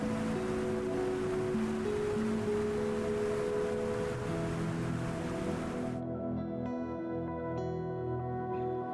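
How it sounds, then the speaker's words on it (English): Muradiye Waterfall in Turkey pours with a loud, continuous broadband rush of falling water that cuts off abruptly, leaving soft music behind. "that's how Muradiye Waterfall got its name"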